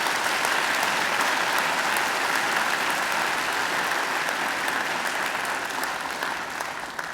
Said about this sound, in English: Let's give her another great round of applause.